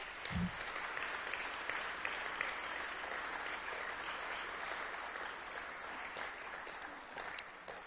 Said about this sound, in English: One more round of applause for Dan Barks, please.